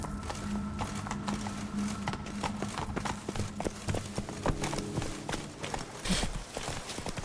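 Horse hooves clip-clop steadily in The Witcher 3 video game, a brisk close rhythm of hoof beats over a busy in-game background.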